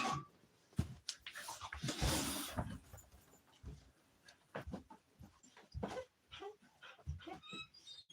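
Several dogs whimper and give short barks close by, mixed with shuffling, thumps and movement noise in an active, busy space.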